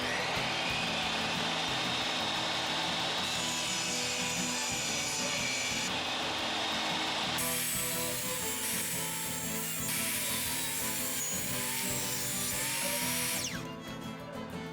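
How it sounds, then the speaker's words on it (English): A power saw trims about an eighth of an inch off the edge of a wooden shelf board for a curiosity cabinet, a loud sustained whine that shifts pitch as the cut progresses, then winds down at the end. "Now that we've trimmed the edge of the board"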